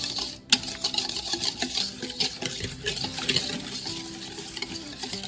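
A spoon stirs macaroni salad in a pan, giving continuous close scraping and squelching with irregular clinks against the pan's sides.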